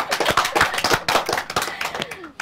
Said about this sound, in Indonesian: Tepuk tangan kalau mau tepuk.